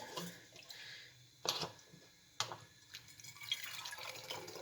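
Homemade vinegar dripping and trickling as it is strained, faint liquid splashes with a few sharper drips and a soft running trickle, close and quiet with no talking.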